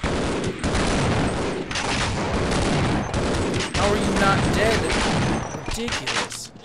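Half-Life video game gunfire: a dense run of loud, close shots in rapid succession that fills the whole stretch, with an in-game voice mixed faintly in the din.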